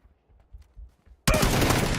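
Gunfire erupts in a PUBG esports match, with quiet scattered thumps first, then a sudden loud, dense burst of rapid shots close by that carries through to the end.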